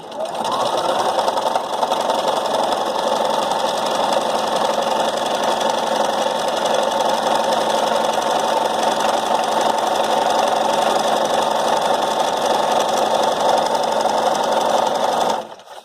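A sewing machine stitches a cloth face mask in one steady, unbroken mechanical whir that runs loud and close for about fifteen seconds before stopping.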